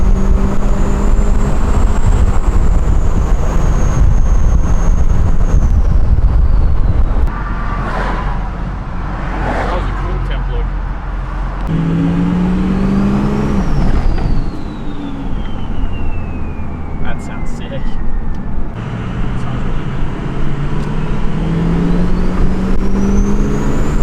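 A Ford 6.0 Powerstroke diesel fitted with a compound turbo kit, its turbos spooling up with a rising whistle over a steady engine drone. Loud and close, it settles into a relaxed, even note partway through, with no talking.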